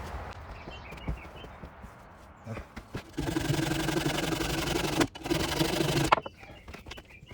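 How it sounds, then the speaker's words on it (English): Wooden pegs on a timber-frame picnic table are sawn off outdoors, a steady rasping cut running for a few seconds, pausing briefly, then resuming, with scattered knocks around it. "But first I got to cut off these pegs to get them out of my way."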